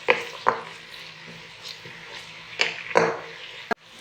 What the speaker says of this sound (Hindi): अब इसमें हम प्याज डालेंगे। उनको अच्छी तरह फ्राई करेंगे।